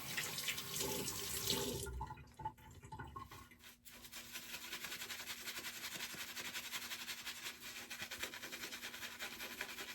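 Water runs from a tap in a steady hiss, briefly interrupted by splashing and handling sounds before the flow resumes evenly.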